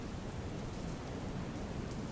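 Heavy monsoon rain pours down in Saurashtra, Gujarat, as an even, unbroken hiss, fairly faint and steady throughout.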